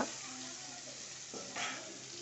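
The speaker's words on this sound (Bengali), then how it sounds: "এই যে একে একে সব ভেজে নেবো মাছগুলো নিয়ে" Tilapia fish frying in hot oil in a wok, a dense, close, continuous sizzle with a brief louder crackling surge near the end.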